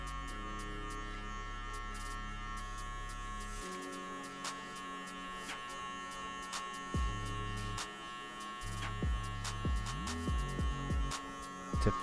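Electric hair clippers fitted with a number 3 guard and the lever fully open cut hair for a low fade on curly hair, giving a steady close buzz with brief changes in pitch as the blades move through the hair.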